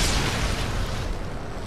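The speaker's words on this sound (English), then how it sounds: "Explosion." A loud, sustained explosion from the sci-fi horror game Dead Space 3, a dense boom that fills the whole moment and slowly decays.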